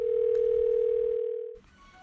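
A steady telephone dial tone holds one continuous pitch for about a second and a half, then cuts off abruptly, leaving quiet background.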